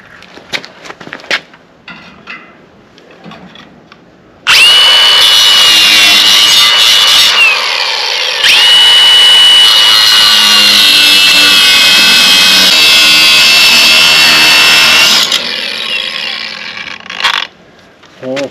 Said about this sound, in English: with good cutoff wheels and this portable bandsaw, this really isn't too bad cutting all this stuff apart